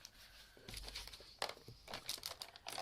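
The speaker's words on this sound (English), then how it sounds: "I just want to poke through those 3 holes now" A sheaf of paper pages for an envelope pocket journal crinkles and crunches as a pointed tool punches through them, giving several soft, close, irregular crackling pokes.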